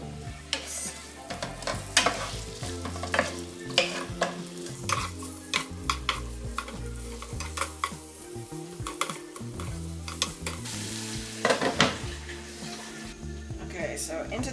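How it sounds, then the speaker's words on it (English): Onions sizzling in about two tablespoons of olive oil with a pinch of salt, steady frying hiss with repeated stirring clatter against the pan, close and continuous while a person talks over it. "we're gonna add about 2 tablespoons of olive oil and the onions"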